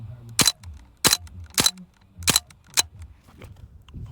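Shots from an Umarex Strike Force BB gun striking a GeekBar vape: five sharp, loud cracks at uneven intervals, followed by a few fainter ticks, with no talking.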